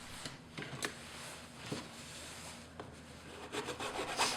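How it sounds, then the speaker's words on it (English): Hand filing on a homemade CD lamp with a flat file, giving irregular rasping strokes at close range, several short scrapes spaced unevenly and quickening toward the end. "the majority of the work was done using a flat file"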